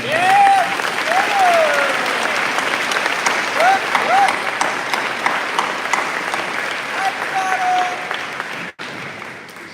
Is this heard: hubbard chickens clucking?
no